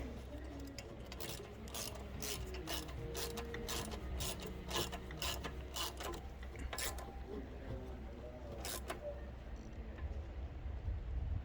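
Screws being tightened by hand into an Onan 4000 watt RV generator, giving a steady run of close ratchet-like clicks and metallic rasping that repeats through the whole stretch with no speech over it.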